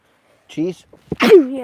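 A single short sneeze bursts out among casual voices during a live trout fishing outing, brief and close, with people talking just before and after it.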